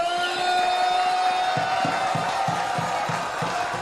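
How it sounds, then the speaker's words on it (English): A baseball crowd at a Portland Pickles versus Bend Elks game cheers and roars loudly throughout, a steady wall of voices with rhythmic clapping or stomping pulses building in the second half. "Crowd getting loud."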